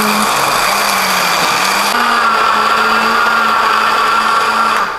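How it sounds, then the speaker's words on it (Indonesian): A kitchen blender grinds chili and peanuts with water into sambal kacang, a loud continuous whirring whine that holds steady throughout, with a slight pitch shift as the mixture loosens. "gue kasih air, lalu gue blender nih, ya kan."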